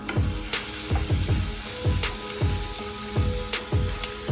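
Ginger and garlic sizzle in hot oil with a steady crackling hiss, interrupted by repeated scraping stirs at an even rhythm.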